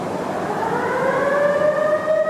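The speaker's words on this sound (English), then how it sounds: "They always sound a siren when something big and hot is being moved in the mill." A warning siren sounds in a steel mill as a heavy ladle of hot steel is moved. One loud, sustained wail rises steadily in pitch and carries through the whole stretch.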